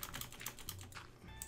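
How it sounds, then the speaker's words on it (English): Fast, steady keystrokes clatter on a mechanical computer keyboard during a Minecraft session, close and fairly quiet, with no voices over the busy clicking. "Sorry about the mechanical keyboard as well, guys."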